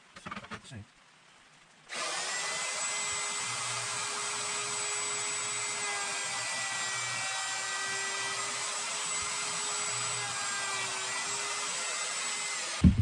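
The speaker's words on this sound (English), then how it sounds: "I have to sand it a little more and all that good stuff." A power sander works over a wooden aft deck part of a Tahiti gaff cutter sailboat. After a short quiet start, it runs as a steady, continuous whirring hiss that holds even and fairly close until the end.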